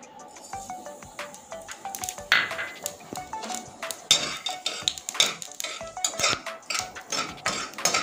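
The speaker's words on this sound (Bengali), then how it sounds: "তেলে জিরেটা নেড়ে নিয়েছি" Metal spoon stirring and scraping in a pan as nigella seeds fry in mustard oil with fried red chili, a steady series of close, sharp clinks and scrapes with a faint sizzle underneath.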